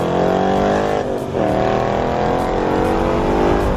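A 2018 Ford Mustang GT V8 engine being broken in, loud and close, revving steadily with a brief dip in pitch before climbing again over several seconds, with no speech.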